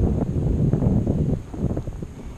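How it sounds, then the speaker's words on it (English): Gusty wind blowing steadily through woods, swaying the treetops, with rustling and buffeting rumble that rises and falls over a couple of seconds. "it's pretty windy in the woods out here"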